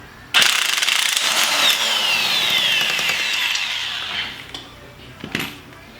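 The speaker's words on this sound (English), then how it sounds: "So get your impact gun again, put it up top of here, and then loosen this up." An impact gun loosening a strut nut, firing a loud, rapid hammering burst up close for several seconds that slows and fades, followed by a brief clank.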